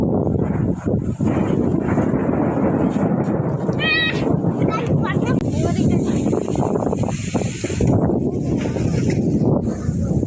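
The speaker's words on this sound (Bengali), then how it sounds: "বাতাস ডাকতেছে প্রচুর পরিমাণ" Strong wind roars and buffets continuously beside a rice field during a storm with lightning, loud and close, while a person talks over it.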